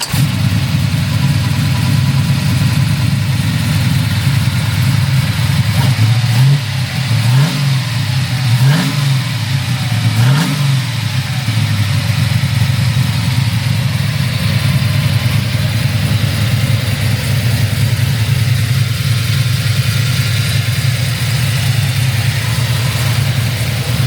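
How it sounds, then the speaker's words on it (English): A 1969 Camaro with a 496 stroker V8 and 5-speed fires up with a few quick throttle blips, then settles into a steady, loud, rumbling idle that runs on unbroken with no talk. "this is how easy this car starts"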